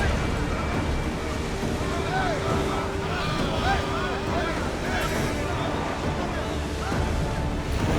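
A warship drives at ramming speed through the sea in Assassin's Creed Odyssey, with a loud, continuous rush of water and wind noise. Several voices talk over it in the game audio.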